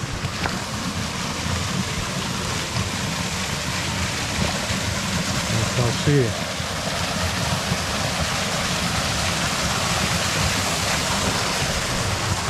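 Steady rushing roar of falling water, constant and fairly close, with a brief voice speaking once near the middle.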